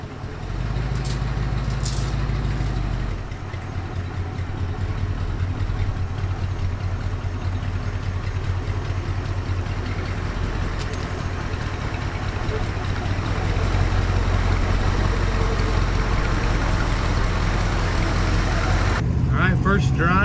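Plymouth Trailduster, a lifted truck fitted with new parts, backing out with its engine running in a steady, loud low rumble that holds throughout, with talk heard over it.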